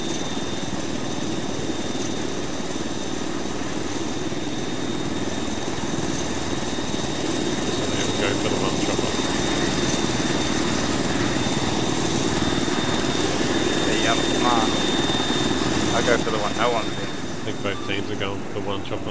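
A helicopter in the Arma 3 video game whirs with a loud, continuous rotor and engine drone, with radio-style chatter and voices talking over it throughout.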